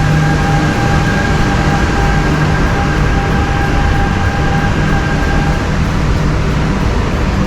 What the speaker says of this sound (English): Oh, that's a nice clean subway